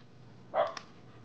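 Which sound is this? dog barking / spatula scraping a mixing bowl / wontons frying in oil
dog barking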